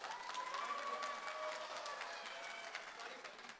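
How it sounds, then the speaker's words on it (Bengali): Audience applause after a song at a Rabindra Nazrul Jayanti cultural event in Austin, Texas, a soft distant wash of clapping with a few sharper claps, tapering off at the end. "সবাই একটা জোরে হাততালি হয়ে যাক"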